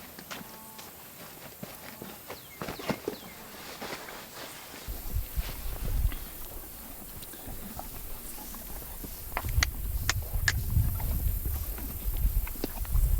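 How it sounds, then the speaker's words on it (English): Hooves clop at an unhurried walking pace, a steady irregular rhythm with some rustling and low rumble, growing a little louder midway. "It's so much fun to just sit on this horse and ride around"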